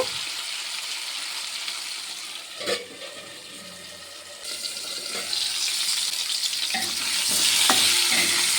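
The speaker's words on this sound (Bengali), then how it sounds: "আলুটিকে একটু নেড়ে চেড়ে আমি ঢাকা দিয়ে কিছুক্ষণ রান্না করে নেব।" Potato pieces sizzle steadily as they fry in a pan, with a few scraping stirs and clinks of a utensil breaking through the constant hiss, close and fairly loud.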